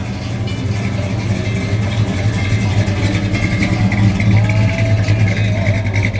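A 1969 Plymouth Road Runner with a 440 engine rumbles and revs close by outdoors. The mid-pitched engine note is steady and continuous throughout, with clatter mixed in and no talk heard.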